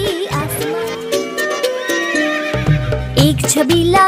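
A horse whinnies and hooves clip-clop inside a bright children's song track, the neighs and hoofbeats sounding loud and close against the music.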